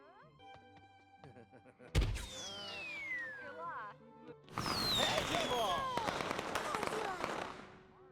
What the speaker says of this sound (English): Can I launch the fireworks in the student union?